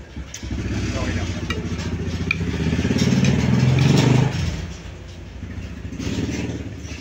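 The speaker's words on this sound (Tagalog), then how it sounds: "Pasensya no kayo kasi may mga motor na dumadaan dito." Motorcycle engines rumble past nearby, swelling louder and then fading, with another softer pass following.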